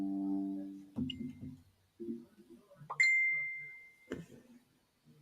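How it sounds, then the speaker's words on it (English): A single bright ding from a Facebook notification on a phone rings out clearly and fades slowly, with a person speaking in short bursts before and after it. "Sometimes my phone goes off and I don't know how."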